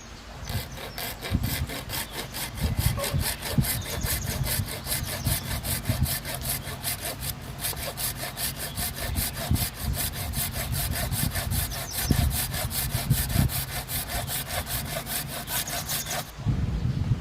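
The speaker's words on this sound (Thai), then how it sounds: "เราจะมาผ่ากันเลยครับโดยใช้เลื่อยตะเล็กครับ" A small hand saw rasps steadily through a threaded PVC pipe fitting in fast, even back-and-forth strokes, close and continuous for most of the clip before stopping.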